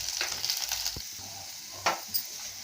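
Onions and a small lump of tamarind with salt are sautéed in a pan for chutney, a soft steady sizzle with a few faint scraping strokes of a spoon.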